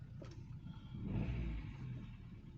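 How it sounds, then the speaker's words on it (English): A warmed-up 2005 Vauxhall Astra H engine idles steadily and fairly quietly, a low even rumble that swells slightly midway with no talk over it. "Let's see what the engine's like. It's a lot quieter, guys. Listen to it."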